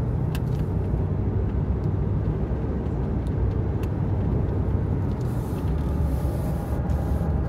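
A car cruises at about 40 with a Walker quiet flow muffler, giving a steady low road rumble and engine drone from inside the cabin, even and unbroken throughout.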